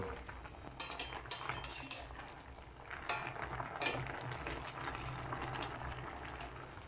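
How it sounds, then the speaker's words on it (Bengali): Ripe ash gourd pieces bubble in a pot of boiling water, a soft continuous simmer with occasional faint clinks of utensils against the pot. "পাকা চাল কুমড়োর টুকরোগুলো ভালোভাবে ফুটিয়ে আমরা সিদ্ধ করে নেব।"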